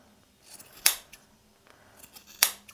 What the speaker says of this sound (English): I'm just going to take these really sharp scissors